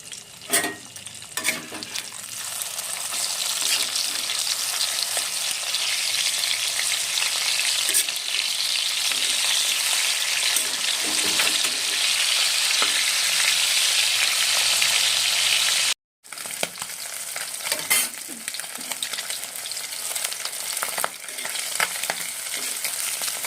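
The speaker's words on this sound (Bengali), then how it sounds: "মাছগুলো ভাজা হয়ে গেছে এবারে এগুলো আমি নামিয়ে নিচ্ছি" Pieces of rohu fish fry in hot oil, a loud, dense, continuous sizzle with occasional clatter of handling, close by, briefly cutting out before resuming more unevenly.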